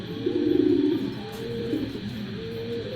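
Low, rolling coos from an old-breed Bagha pigeon, a big female kept by a racing pigeon fancier, a few close, soft repeated phrases with faint background hiss and no talking.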